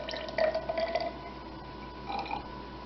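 Water trickles and drips into a beaker of warm vacuum pump oil for a freeze dryer, a close liquid splashing and gurgling that swells twice.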